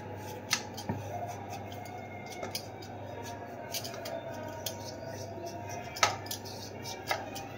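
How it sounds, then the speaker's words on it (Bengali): Potatoes being cut in a home kitchen, scattered sharp clicks and taps of a blade over a steady low room hum, spaced irregularly with a few louder strikes. "আলুটা কেটে নিই আগে।"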